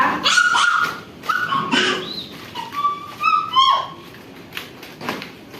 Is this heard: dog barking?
yes